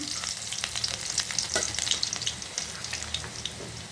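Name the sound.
frying dried chillies and chopped garlic in oil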